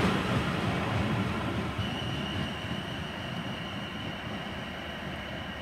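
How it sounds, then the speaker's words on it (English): A Class 444 electric passenger train pulls away from a rural station, a steady loud rumble of motors and wheels with a faint high whine emerging as it accelerates, heard alone without voices. "444007 departing for London Waterloo from Poole."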